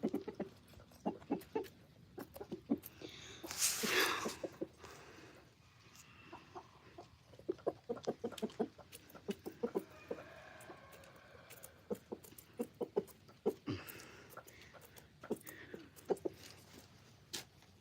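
Chickens and a rooster cluck in short, scattered bursts on a sanctuary farm, with one louder flurry of wing flapping partway through and steady low background noise, no talking.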